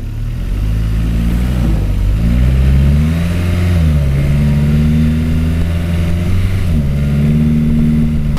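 Updated Enwix Standard all-terrain vehicle accelerating on its way to asphalt, the loud close engine rising and shifting in pitch over several stepped runs with no talk.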